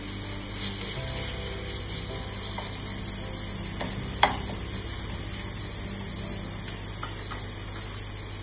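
Chopped squid heads sizzle in a pan with crushed tomatoes, a steady low frying hiss with occasional soft stirring taps and one sharp clink near the middle.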